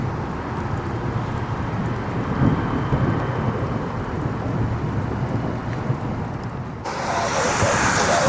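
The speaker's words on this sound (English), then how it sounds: "you hear constant thunder" Thunder rolling from a strong thunderstorm at Cleveland Hopkins airport, a constant low rumble with rain hiss, brightening near the end as the rain or noise swells.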